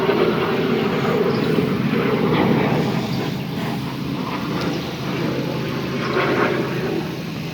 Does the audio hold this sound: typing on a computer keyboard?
no